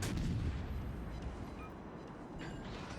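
Naval gunfire from warship batteries in World of Warships Legends, a deep rumbling barrage of booms that rolls on steadily through the whole stretch with no voices.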